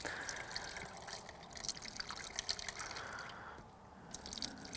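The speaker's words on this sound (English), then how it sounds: "I'm just gonna pour it down into the reservoir here." Quiet trickling and dripping as water is poured from a jug into a car's reservoir, a soft continuous liquid stream with small splashes, close by and with nobody speaking.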